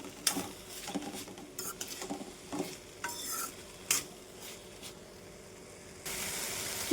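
Ridge gourd with its peel stirred and fried in a pan over a low flame, soft scraping stir strokes and brief clatters over a faint sizzle that rises near the end, no talking.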